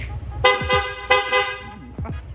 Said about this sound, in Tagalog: Sir, pa-activate naman ng loud horn.